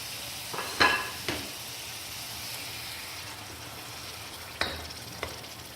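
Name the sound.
mutton meat added to hot oil, frying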